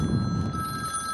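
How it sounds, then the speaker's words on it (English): A telephone rings with a steady electronic tone over low background rumble near a harbour, close and fairly clear, no speech. "And there's our phone ringing."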